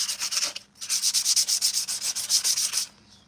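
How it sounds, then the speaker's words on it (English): 3D printed Mandalorian armor pieces being hand-sanded: steady, rhythmic back-and-forth scratchy rasping close by, broken by one brief pause, then fading out. "Every time after you sand this stuff, you want to rinse these pieces off to get the dust off before you go to the next step."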